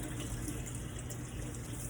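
Water running steadily while rinsing Monat shampoo out of hair, a constant close splashing flow with no pauses.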